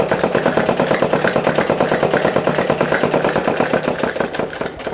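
A sewing machine runs close by while stitching palazzo pants being taken in to a smaller size, its motor chattering in a fast, even rhythm that slows slightly near the end.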